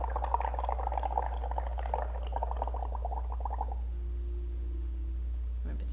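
Air blown through a straw into liquid paint makes a steady, close bubbling gurgle for a few seconds before it stops, leaving a low hum.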